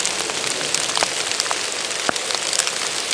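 Steady rain falling in a forest, a dense close patter of drops on leaves and surfaces with a few sharper individual drips standing out, continuous and fairly loud with no voices.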